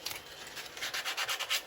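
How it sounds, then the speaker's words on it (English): Sandpaper rubbing against a wooden toy car spinning on a woodturning lathe, a steady close hissing scrape that swells in short rhythmic strokes. "You can do a lot more sanding on this."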